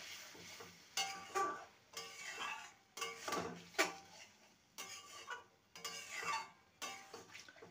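Egg ghugni masala being stirred and sautéed in a pan with a splash of pea-boiling water, heard as repeated scraping strokes and soft sizzle in bursts about once a second, close and moderately loud with no talk.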